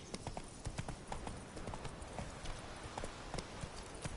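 Horse hooves clip-clopping in The Witcher 3: Wild Hunt, a brisk, steady run of close hoof clops with a faint game soundscape beneath, quiet overall and with no speech.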